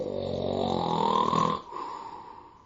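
A voice imitates snoring: a long, rasping, drawn-out snore that cuts off abruptly, followed by a softer, fading breath.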